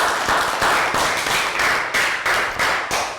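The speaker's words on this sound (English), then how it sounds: "So round of applause, guys." A class of Year 3 students claps in a round of applause, steady loud hand claps with a fairly regular pulse, close by and without any talking over them.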